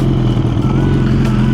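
A warmed-up Suzuki motorcycle engine runs steadily at idle nearby, a brief low rumbling drone with an even pulsing throb.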